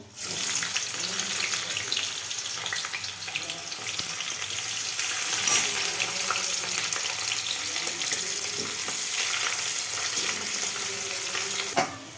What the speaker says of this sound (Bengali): এবার আমি এবার পেঁয়াজটাকে লাল করে ভেজে নেব